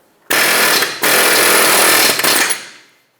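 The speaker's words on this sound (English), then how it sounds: "I'm going to put an air chisel right in the middle of it and push it through" Loud, rapid air chisel hammering in two long bursts separated by a brief pause, harsh and close, driving out a stuck rear CV axle on a Jeep Compass, then quickly cut off.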